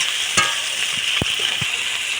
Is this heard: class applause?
no